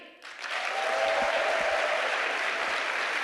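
A room full of newcomers at an Ignite Seattle show claps together, a dense, steady wash of applause rising quickly after a brief quiet start and holding strong, with faint voices murmuring underneath.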